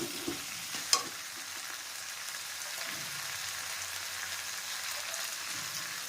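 Tomatoes frying in a pan for a besan curry, with a steady soft sizzle and occasional scraping stirs, a sharp clink near the start, no talking.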